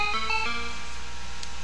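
Short electronic game-over jingle from the Moon Patrol arcade video game, a few quick bright descending tones in the first half second, then a faint lingering hum.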